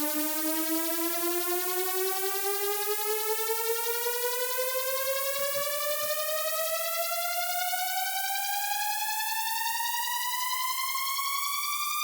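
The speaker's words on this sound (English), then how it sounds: "The only sound that's in the arrangement category is the riser, because it's a long effect that just" Riser effect for a Eurobeat build-up made in LMMS: a loud, steady synthetic tone sweeping smoothly upward in pitch for about twelve seconds, harmonically rich and alone.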